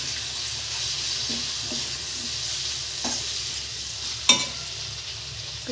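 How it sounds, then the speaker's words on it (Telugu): Bitter gourd pieces sizzle steadily as they fry in a pan, with a few soft scraping stirs at intervals and one sharper clink near the end, no voices. "చక్కగా ఫ్రై అయిపోయింది. ఇప్పుడు ఈ కాకరకాయ ముక్కలు వేసేసుకుంటున్నాను."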